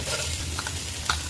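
Onions frying in hot ghee for a Kerala coconut-milk chicken curry, giving a steady close sizzle with brief stirring scrapes and no talk.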